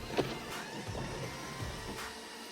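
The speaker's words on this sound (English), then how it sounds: "You can still keep your sunshade closed while you open your sunroof." An electric sunroof on a VW Golf Mk8 GTI slides open with a soft, steady motor whir inside the cabin, quiet and close, with a couple of faint clicks and no talking.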